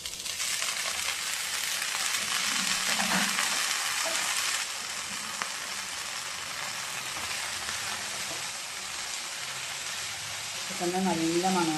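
A ground masala mixture sizzles and fries in a pan, a steady broadband hiss throughout with a brief lull in the middle and faint stirring, a voice briefly over it near the end.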